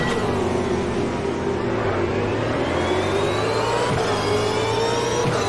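A V8 Supercar engine in the racing game Automobilista drones loudly and continuously at a race start at Darwin, revs climbing and shifting in pitch as it pulls away, close and unbroken.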